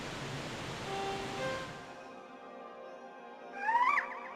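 Sea waves in Zelda Wind Waker, a soft steady surf wash that fades out, then a brief bright tonal sweep rises near the end.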